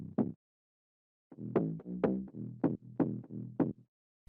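A layered bass sample from a Sampacho collaboration sample pack, playing a short note, a pause, then a rhythmic run of punchy, pitched bass hits with bright attacks, alone and fairly quiet.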